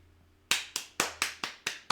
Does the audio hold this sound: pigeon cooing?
no